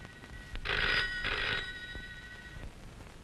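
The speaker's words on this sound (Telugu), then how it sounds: "ఆ ఫోన్ చూడమ్మా" A telephone bell rings in two loud, close bursts indoors, then stops, with background noise and no talking.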